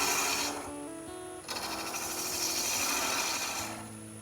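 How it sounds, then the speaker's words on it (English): Wood lathe spinning as a chisel cuts captive rings, a sustained whirring hum with scraping, rasping tool contact that starts and stops in bursts, close and steady. "I'm turning the chisel to take it down"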